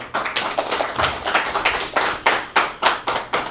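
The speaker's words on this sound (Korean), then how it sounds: "오늘 강의하시는 유대칠 소장님께 뜨거운 박수로 강의 청해 듣겠습니다" A small lecture audience at a philosophy talk claps to welcome the lecturer: steady, slightly uneven hand claps in a quick regular rhythm, close and clear with no talking.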